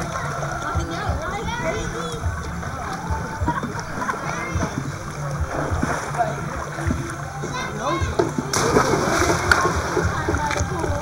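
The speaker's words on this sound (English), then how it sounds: "That was a pretty quick splash, wasn't it?" Water splashes in a swimming pool during a July pool party, a loud burst near the end after a stretch of lively background chatter and children's voices.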